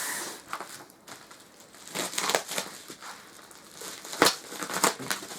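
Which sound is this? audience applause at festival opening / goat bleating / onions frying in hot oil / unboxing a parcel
unboxing a parcel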